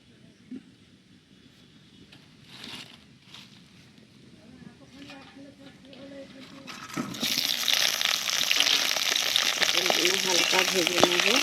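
Pointed gourd dropped into hot mustard oil in a heated kadai: quiet kitchen handling and faint talk at first, then a sudden loud, steady sizzle and crackle that fills the second half.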